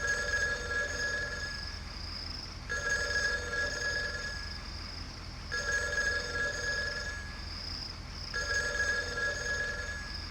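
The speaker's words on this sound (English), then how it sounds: "I think the telephone is ringing in the hut." Four bursts of a telephone bell ringing inside a hut in the adventure game Ark of Time, each electronic trill lasting about two seconds with short gaps, steady and moderately loud over faint background hum.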